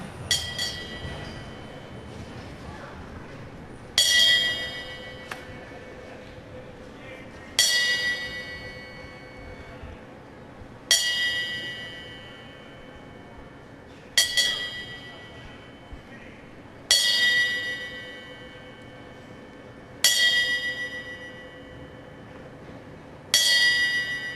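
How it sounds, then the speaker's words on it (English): Ten bells ring out as the traditional boxing tribute at a funeral, each a clear metallic clang struck at even intervals of about three and a half seconds and left to ring and decay in a quiet hall. "a special tribute was paid here tonight with the traditional 10 bells"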